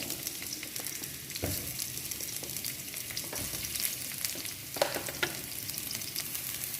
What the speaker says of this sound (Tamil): இந்த மாதிரி கட் பண்ணி வச்சுருக்க பாவக்காய் எல்லாத்தையும் அதில் நல்லா வறுத்து எடுத்துக்கலாம்